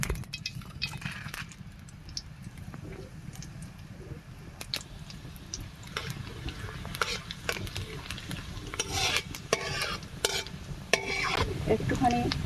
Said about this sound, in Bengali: ফোড়নের জন্য আমি এখানে নিয়েছি শুকনো লঙ্কা, তেজপাতা, কালো জিরে আর গোটা জিরে। ফোড়নের জন্য এটা দিয়ে দেবো।